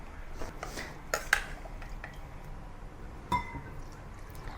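Cooked udon noodles in curry soup go into a serving bowl, with soft utensil clinks, a couple of sharper taps against the bowl and faint liquid sounds, all quiet.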